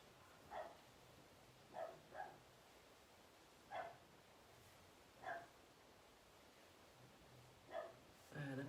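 A dog barks in short single and double yaps, faint and somewhat distant, spaced irregularly against quiet room tone, with a louder burst at the very end.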